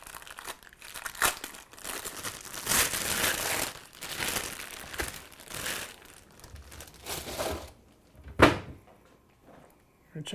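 A dry-aged ribeye steak is unwrapped from an UMAi bag, giving loud crinkling and rustling of plastic over several seconds, then a sharp rip or snap near the end, close up.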